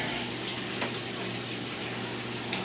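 Shower water runs steadily as a man wets his face before a shave, a constant hissing spray that stays loud and even throughout.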